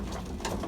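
Pigeons in a loft give soft, low cooing calls close by, layered over a constant background murmur.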